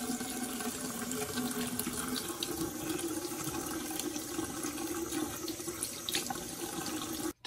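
A Tosca 8-inch widespread bathroom faucet runs water steadily into a sink, a continuous close rushing hiss that holds level for several seconds before cutting off abruptly at the end.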